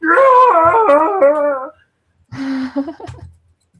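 A voice imitates a husky howling: a long, wavering, drawn-out howl that rises and falls, then after a pause a shorter yipping, whimpering cry, loud and close.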